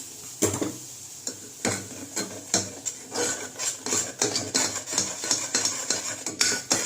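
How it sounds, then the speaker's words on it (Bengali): Boiled masoor dal is mashed and stirred with warm water in a pot, giving a rhythmic series of close, wet thuds and metallic scrapes from a spoon against the vessel. "এবার আমি এখানে একটু একটু জল দিয়ে ডালটা ভালো করে ঘাটবো"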